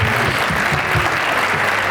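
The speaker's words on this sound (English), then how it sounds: "if we can get a round of applause to all of our wonderful esteemed panelists" An audience at a panel discussion event gives a dense, steady round of applause that fills the whole stretch at even loudness.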